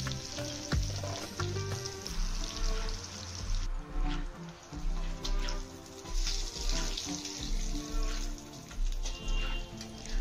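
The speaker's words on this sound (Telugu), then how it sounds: "ఇలా 2 వైపులా తిప్పుకుంటూ కాలుస్తున్నాను నేను చేప ముక్కల్ని" Fish pieces fry over low heat in a pan, giving a steady close sizzle and bubbling with a rhythmic low thudding underneath throughout.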